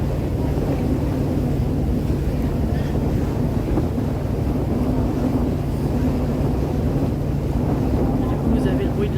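Ferry crossing toward Miyajima: a steady low rumble of the boat's engine with water wash and heavy wind buffeting the microphone, constant and close throughout.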